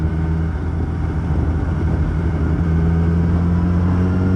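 Yamaha R1 5PW sport motorcycle being ridden, its engine droning loud and close with a steady hum and a slight rise in pitch, with wind noise over it.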